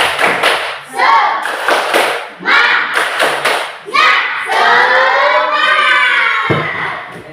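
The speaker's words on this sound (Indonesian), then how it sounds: "Tepuk semangat." A fifth-grade class at an Indonesian state elementary school performs a rhythmic clap chant, with sharp group claps and thumps in quick bursts mixed with children's shouting voices.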